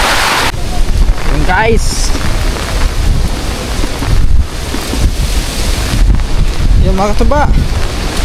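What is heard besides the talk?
heavy rain and wind during typhoon Uwan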